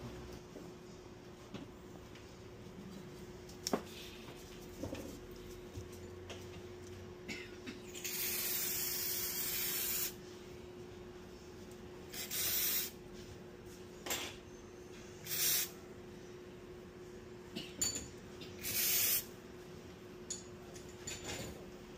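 Aerosol spray can hissing in several bursts of varied length, one long steady spray and a few shorter puffs, close by over a faint background hum, during work on a water-damaged iPad Air 6.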